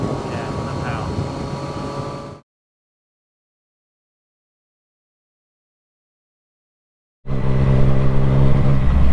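A motorcycle riding on city streets in Surrey drones with a steady, loud engine and wind rush, cut by several seconds of total silence before the engine noise returns, while a rider talks over it.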